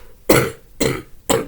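Three harsh, loud coughs from one person with a bad cough, evenly spaced about half a second apart, close up and alone.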